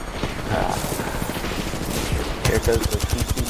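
A full magazine emptied in the Apex Legends game as rapid automatic gunfire, dense and steady, then sharper, more distinct shots near the end, with speech mixed in.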